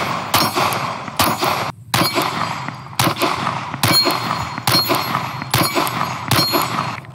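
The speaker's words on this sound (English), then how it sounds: "let's keep shooting." Close, sharp pistol shots from a Springfield Armory Hellcat Pro ring out in an uneven string of about eight, each followed by a metallic clang from steel targets at an outdoor range.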